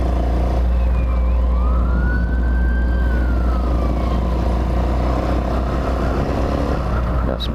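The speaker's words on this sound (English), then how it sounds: "Some sirens going somewhere." Emergency vehicle sirens wail through traffic, one rising and sustained tone sweeping across several seconds at moderate distance over a steady loud road and engine rumble from a motorcycle ride.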